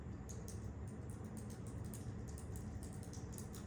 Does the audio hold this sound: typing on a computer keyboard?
yes